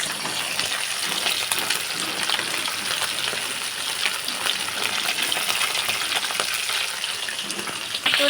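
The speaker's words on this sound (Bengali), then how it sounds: "আবারও কড়াইতে মাছগুলো দিয়ে দিলাম, আবার লাল লাল করে মাছগুলো ভেজে নেব" Fish sizzles steadily in oil in a kadai for the whole stretch, a loud, close, continuous frying hiss with no talk.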